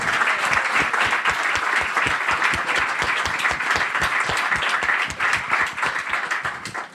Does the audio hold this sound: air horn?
no